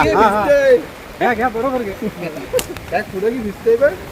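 Steady rain falls outdoors during the monsoon, a soft continuous hiss running underneath someone talking close by.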